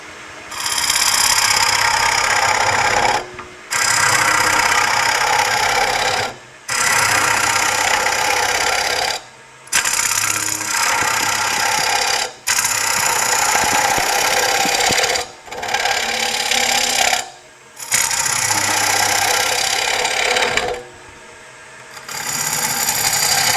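Straight hollowing tool cutting into wood on a woodturning lathe: a loud, rough, broadband shearing roar in repeated bursts of a few seconds each, broken by brief pauses, with no talking.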